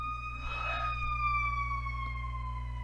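An ambulance siren passes by outside, its steady wailing tones slowly dropping in pitch as it goes, with a short shouted voice near the start.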